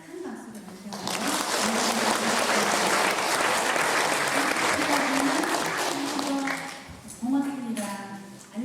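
Big church audience applause closing a Lenten lecture at a Catholic parish: dense, sustained clapping that swells after a second and fades near the end, with a voice speaking over it throughout.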